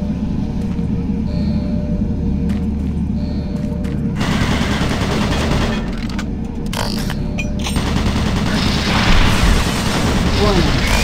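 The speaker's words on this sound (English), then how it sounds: "Warning. Automated turret guns online." Automated turret guns in Doom 3's monorail area fire in dense, continuous bursts, loud and close, over heavy rumbling background noise, with a synthetic announcer voice speaking intermittently underneath.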